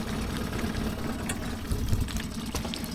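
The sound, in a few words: dinghy engine idling roughly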